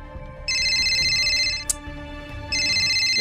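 A mobile phone ringtone for an incoming call plays as a loud, steady electronic melody in two bursts, the first lasting about a second and the second starting near the end, with a brief click between them.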